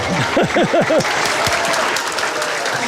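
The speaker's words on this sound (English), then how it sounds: "Give them both a big round of applause." Audience applause rises in a broad, steady wash for about three seconds at an outdoor event, with a few voices calling out near the start.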